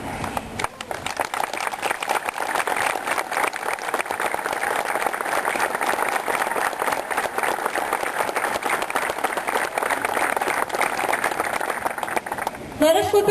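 Large crowd at a Relay For Life evening event in Bennington, Vermont gives sustained, dense applause to honor cancer survivors, loud and continuous for over twelve seconds.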